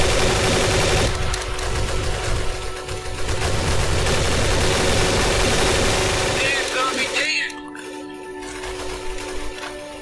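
Rapid automatic gunfire in the zombie survival mode of Garry's Mod, a dense, loud barrage of overlapping shots lasting about seven seconds before thinning out. A voice may be heard beneath it.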